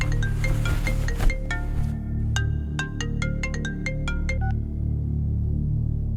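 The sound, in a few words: phone ringing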